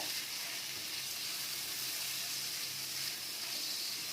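Chopped tomatoes and green chillies frying in oil for a prawn masala gravy, giving a steady, even sizzle that holds throughout with no talking.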